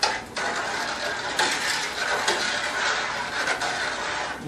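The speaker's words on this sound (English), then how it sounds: "we're just going to keep on stirring until we don't hear that granular sound on the bottom of the pot" A spoon stirs a granular sugar mixture against the bottom of a pot while making hard cider, giving a steady close scraping and grinding rasp with small rhythmic surges, no voices.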